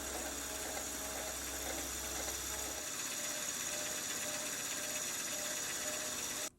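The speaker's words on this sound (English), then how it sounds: "now I can set up the cap in the mill, get it level, and then clean up this surface." Milling machine cutting the surface of a steam engine connecting-rod cap, a steady bright whine with a constant mechanical hum and a low rumble that drops away partway through, running continuously before stopping abruptly.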